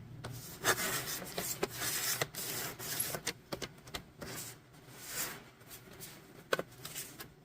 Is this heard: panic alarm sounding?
no